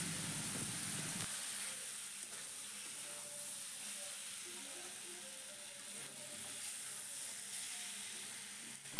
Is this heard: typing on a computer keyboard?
no